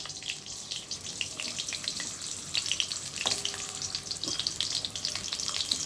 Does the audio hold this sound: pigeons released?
no